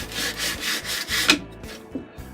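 Rhythmic back-and-forth rasping of abrasive on wooden moldings, about five strokes close by, then the scraping slows and trails into a few lighter scuffs.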